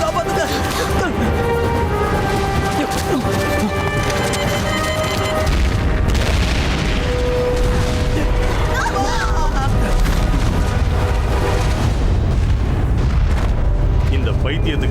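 A bomb goes off in a Tamil-dubbed adventure movie: heavy booming blasts and crashing debris roll on over a music score, loud and continuous, with the rumble swelling in the second half.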